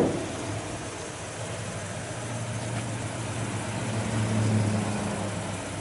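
A 1968 Ford Mustang convertible's V8 engine with a Holley carb idles with a steady, low burbling rumble from the exhaust that swells slightly toward the end, heard alone without any talking.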